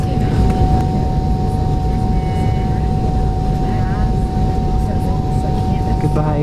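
Inside a Delta Airlines MD-90 airliner cabin, a loud, steady engine and air drone with a constant hum runs the whole time, with faint voices in the background.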